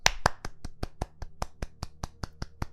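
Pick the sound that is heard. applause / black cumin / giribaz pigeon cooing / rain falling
applause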